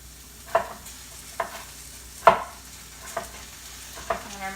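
Mushrooms cook in a pan with a soft, low sizzle, while about five separate scraping stirs rise briefly above the quiet background.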